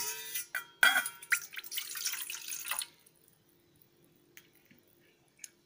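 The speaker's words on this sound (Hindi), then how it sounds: "इसमें एक गिलास पूरा पानी आप डाल दीजिए" Water poured into a pot holding fig seeds for germination, an uneven splashing pour lasting about three seconds, then near silence with a few faint drips and small knocks.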